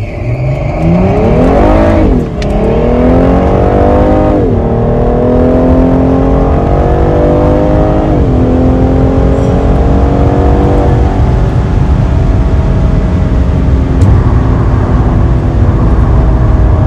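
A Cadillac CTS VSport launches down a drag strip in winter, its engine roaring loud and close as it climbs through several upshifts, each marked by a brief dip in pitch before it pulls hard again.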